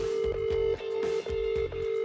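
A mobile phone ringing out while a call is placed, a steady tone broken by brief regular gaps about every half second, loud and close with no talking.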